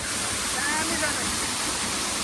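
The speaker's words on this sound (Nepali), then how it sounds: "यहाँ माथिबाट झरेर चाहिँ तलबाट बग्दो रहेछ पानी" A mountain waterfall in Nepal, with water dropping from above and flowing on downstream, makes a loud, steady rushing roar close by for the whole stretch.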